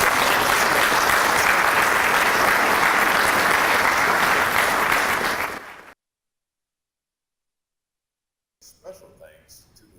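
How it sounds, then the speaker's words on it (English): Loud, dense applause fills a military service ceremony as an audience honours the soldiers who set up the event. It holds steady for about six seconds, stops abruptly into silence, then faint scattered sounds follow. "Please join me in a round of applause for the team of soldiers who assisted in setting up today's ceremony."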